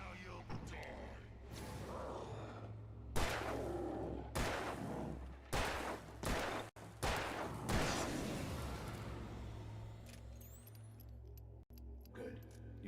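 Gunfire in Alan Wake Remastered, several loud separate shots spaced a second or two apart over a steady low game hum, with a voice speaking in between.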